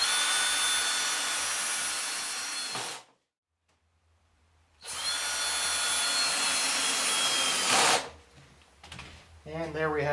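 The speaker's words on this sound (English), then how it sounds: "Make sure that we have our drill set to 1 foot-pound, and bring the screws down." A power drill set to one foot-pound of torque drives screws into the back panel of a radio, heard as two loud, steady whirring bursts of about three seconds each, separated by a silent pause and followed by softer handling noises.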